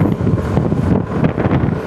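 Strong wind buffeting a microphone outdoors at an elevated LRT construction site in Jakarta, a loud, continuous rumbling roar that swells and dips with the gusts.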